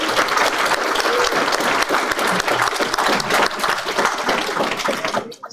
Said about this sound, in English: I just want to give Jason, I know he's hiding again, one more round of applause for keeping this going.